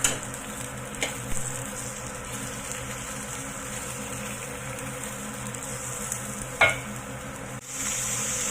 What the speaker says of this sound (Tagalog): I-fry lang muna natin bago natin i-fry yung pork